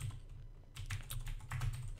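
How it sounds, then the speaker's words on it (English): Quiet, irregular keystrokes clatter on a computer keyboard in short bursts, close by and with no voices. "I'm just randomly typing stuff."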